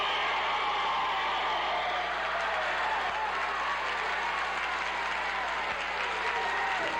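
A public meeting crowd in 1979, gathered over the Three Mile Island reactor's krypton gas release, applauds in opposition to venting it, a sustained, even wash of clapping heard at moderate distance with no gaps.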